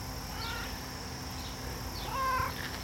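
Indoor domestic cat giving a few soft meows, short drawn-out calls spaced across a couple of seconds over quiet background hum, with one slightly louder call near the end.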